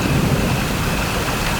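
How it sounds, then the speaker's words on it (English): A Pulsar-23 drum machine patch produces a synthesized thunderstorm: a dense, loud, steady wash of rain-like hiss over low rumbling, with no speech. "I just got a little thunderstorm and a little cricket"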